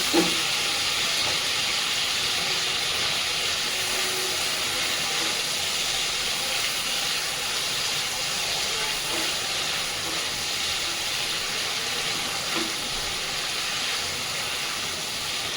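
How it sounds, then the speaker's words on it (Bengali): Prawns fry lightly in a pan with a continuous, even sizzling hiss close by, holding a fairly steady level throughout with faint background hum and no talking. "চিংড়ি মাছ আমি বেশি ভাজবো না, কারণ চিংড়ি মাছ বেশি ভাজলে শক্ত হয়ে যায়। আমি হালকা একটু ভেজে নেব।"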